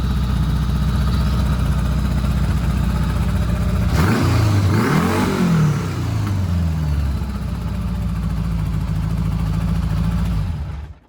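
A Honda Goldwing GL1000 motorcycle engine in a cafe conversion runs steadily close by, then revs sharply upward around the middle and falls back to a fast idle, loud and continuous with no talking.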